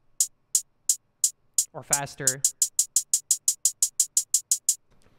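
Dry, unprocessed drum and bass hi-hat sample ticking in a steady, fairly quick pattern of crisp, bright closed hits, close and clean; a voice briefly speaks partway through while the hits continue.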